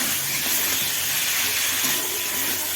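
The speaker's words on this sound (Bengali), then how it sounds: "আর দিয়ে দেবো ভেজে রাখা আলুগুলো। দিয়ে ভালো করে কষিয়ে নেবো।" Fried potatoes are stirred into a sizzling cauliflower curry in a hot pan, giving a loud, steady hiss of frying across the whole stretch, with no talk.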